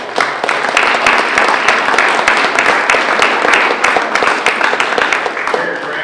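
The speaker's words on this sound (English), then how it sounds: "If you would, please give them a round of applause." A room full of people applauds city staff at a Ponca City gathering, a dense, steady wash of many hands clapping close by, holding strong throughout and easing slightly at the end.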